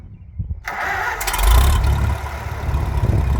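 A Farmall M tractor engine cranks and catches, settling into a loud, close, low chugging idle with a rumbling, uneven throb and no speech.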